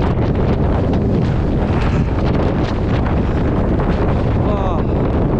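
Strong storm wind roars across a microphone on a Scottish mountain, Meall Ghaordaidh, during Storm Babet, a loud, constant buffeting rush with no break throughout.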